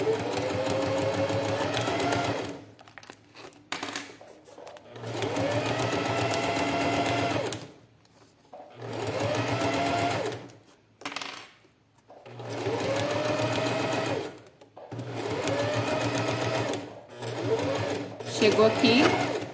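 Sewing machine stitching a plastic pouch in several steady bursts separated by short pauses, close and loud, with someone talking in the gaps.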